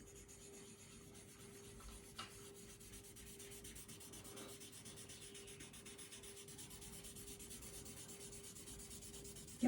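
Graphite drawing on toned paper being blended, a faint steady rubbing and scraping of a blending tool across paper, continuous and close, with no talking.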